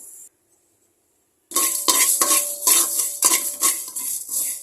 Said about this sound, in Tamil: இப்போ எடுத்து வச்சுருக்க வெந்தயமும் சோம்பு எடுத்து வச்சுருக்கோம் இல்லையா அது இது கூட போட்டுருவோம் போட்டுட்டு நல்லா வறுத்துக்கிடுவோம்